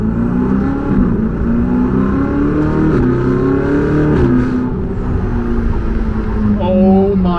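A Ferrari 488 GTB pulls away from the driver's seat, its engine rising in a steady, loud drone with climbing harmonics. The sound swells and shifts through the run, with a brief tonal change near the end.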